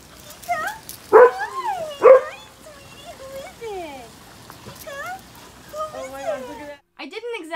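Tika, a retired guide dog, whimpers and yips excitedly in high, sliding whines with a couple of sharper bark-like bursts, close by, while people speak softly to her.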